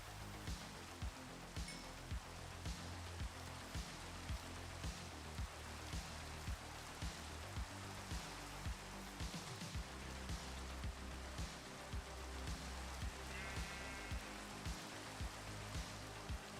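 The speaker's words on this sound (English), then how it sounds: "I want to get rid of the rain." Steady rain falls in the Minecraft video game as a dense, even hiss that runs unbroken for the whole stretch, with faint repeated ticks layered over it and no talking.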